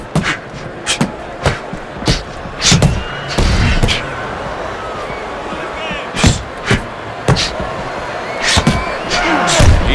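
Punches land in the boxing video game Fight Night Round 4 on Xbox 360 in a Rocky Balboa versus Apollo Creed bout: a quick series of loud, sharp thuds and slams over a crowd murmur, with a voice talking between blows.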